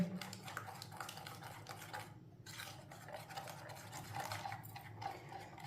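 Besan batter mixed with water is stirred in a bowl, giving soft, rhythmic scraping and wet sloshing strokes with a brief pause midway, close and quiet.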